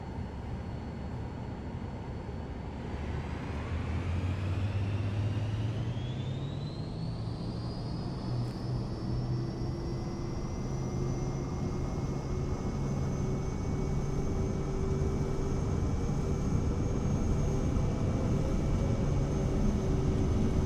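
Aircraft engine in Microsoft Flight Simulator 2024, droning steadily and rising in pitch as power builds for the climb, a continuous loud whine with no talk over it.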